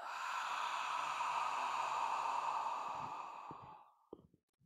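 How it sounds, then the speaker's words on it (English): A long, deep exhale during qi gong breathing practice, a steady breathy rush lasting several seconds that tapers off, followed by a couple of faint soft clicks. "Exhale and melt."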